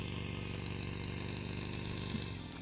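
Steady droning vehicle engine in PUBG Mobile while driving toward Pochinki, a constant mid-pitched buzz with even pulsing, alone and moderately quiet.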